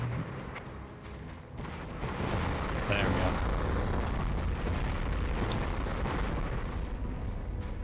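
A land mine blast in the war game Conflict: Desert Storm swells into a loud, sustained roaring rumble of explosions and debris. It stays dense and heavy for several seconds, with speech faintly under the din.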